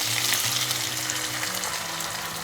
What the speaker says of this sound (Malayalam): ഏകദേശം 1 മിനിറ്റ് ഹൈ ഫ്ലെയിമിലിട്ടിട്ട് ഒന്ന് സോട്ടേ ചെയ്ത് കൊടുക്കാം.